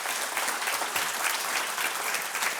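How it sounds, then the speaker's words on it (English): Dense, steady applause from a podcast audience, loud and continuous for a few seconds with no voices over it. "could we get a very warm round of applause for Michael Mc Killop?"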